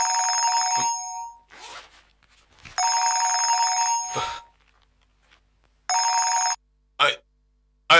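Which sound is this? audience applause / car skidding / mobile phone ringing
mobile phone ringing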